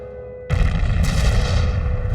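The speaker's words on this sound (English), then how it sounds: "our artillery opened on the buildings" World War One artillery shelling a group of buildings: a heavy, continuous rumble of booms breaks in suddenly and keeps pounding, loud and close, with dense overlapping low impacts and no voices.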